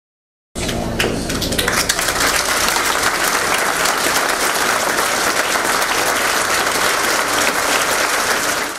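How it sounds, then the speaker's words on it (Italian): Mourners give a long applause at the funeral of a thirteen-year-old boy as his white coffin passes. A full crowd breaks into loud, sustained clapping after a brief silence and keeps it going unbroken. "Un lungo applauso"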